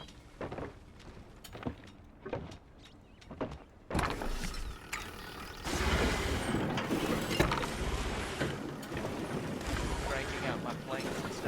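Heavy sawmills running in the video game Palia make clicking, ratcheting mechanical churning that builds into a busier, denser clatter partway through, with a voice talking over it.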